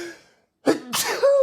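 A single close, sharp sneeze bursts out after a brief quiet, followed by a breathy sniff and a short vocal sound.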